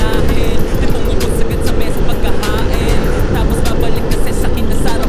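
Suzuki Burgman Street 125 EX scooter engine running steadily while riding, a continuous close low drone with wind rush throughout, no talk over it.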